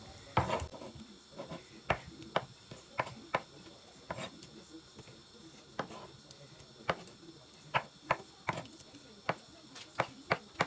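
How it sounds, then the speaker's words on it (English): Knife cutting soft silken tofu into squares for a Korean doenjang stew, heard as a series of light, evenly spaced taps on a cutting board, close and fairly quiet, with no talking. "So I'm going to cut it into like squares."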